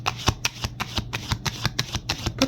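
Tarot cards are shuffled by hand in quick, rhythmic riffles, a steady run of about a dozen close, crisp card slaps with no talk.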